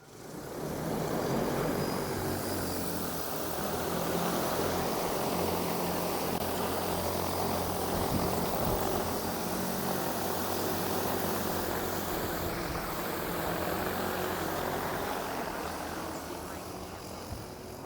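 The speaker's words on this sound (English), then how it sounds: "I hit hover there. We're going to take off." An agricultural spray drone lifts off and hovers, its rotors giving a loud, steady, close whirring roar that holds evenly throughout.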